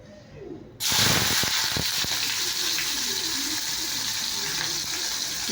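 Onion drops into hot oil for a bottle gourd and pumpkin dish, starting with a sudden loud sizzle that settles into a steady frying hiss with faint crackles, close by.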